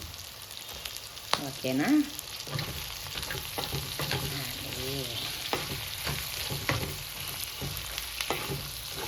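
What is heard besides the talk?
bottle gourd pieces frying in a pan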